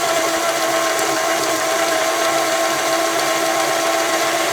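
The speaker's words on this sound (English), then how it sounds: "And I'm gonna cream this together, the butter and the sugars here." An electric mixer creaming butter and sugars into cookie dough, a loud, steady mechanical whir with a constant motor hum and faint rattling, running unbroken without any talking.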